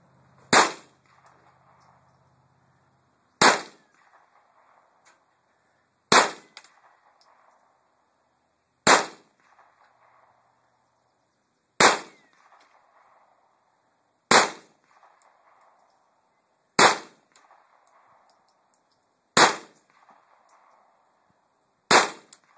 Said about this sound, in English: about to shoot his favorite one, the Mark III